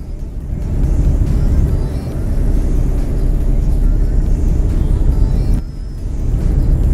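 A heavy truck in Euro Truck Simulator 2, running with ProMods in a multiplayer convoy, pulls away under throttle. The engine rumbles low and steady, dips briefly, then returns at a constant drone, loud and close, with no talk over it.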